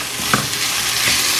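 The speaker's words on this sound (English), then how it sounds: "Now I'm going to add the beef and start mixing it up." Beef sizzles and fries in a hot pan with onions and pepper, filling the pan with a dense, steady crackle while a utensil stirs and scrapes through it close up.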